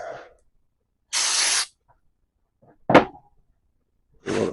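Brake cleaner is sprayed onto an engine gasket surface in three short, sharp hissing bursts separated by pauses. The spray is close and loud, with faint handling noises between bursts and no talking.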